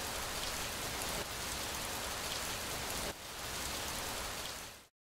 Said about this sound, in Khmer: មិនយូរប៉ុន្មានភ្លៀងក៏បង្អុរចុះមក